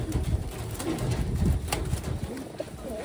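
A Taiwan-bred pigeon coos softly amid a steady rumble of background noise and low handling sounds, the low calls repeating through the few seconds.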